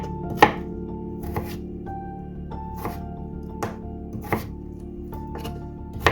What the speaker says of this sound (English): I'm going to cut these into cubes